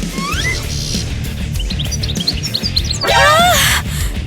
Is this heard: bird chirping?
yes